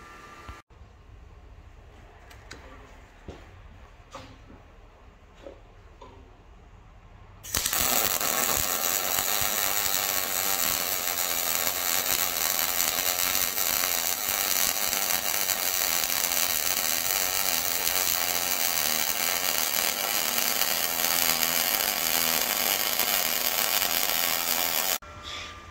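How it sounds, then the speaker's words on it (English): An ARCCAPTAIN MIG 200 welder running on 110 volt with mixed shielding gas lays a bead, a loud, steady crackling hiss that starts abruptly after a quiet stretch of small clicks and holds unbroken for about seventeen seconds before cutting off. "let's MIG with the ARCCAPTAIN MIG 200 and see if it MIGs"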